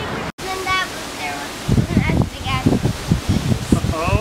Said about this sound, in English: Waimea Falls. Oh, yeah, Waimea Falls.